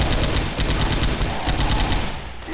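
Rapid automatic gunfire in the zombie shooter Left 4 Dead 2, a loud continuous burst of closely spaced shots that runs the full length and thins slightly at the end.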